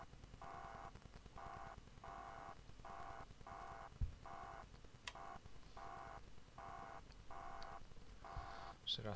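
A glitching phone alarm in an indie horror video game bleeps in a steady, regular pulsing pattern of short tones, faint over a low noisy background, with a few clicks.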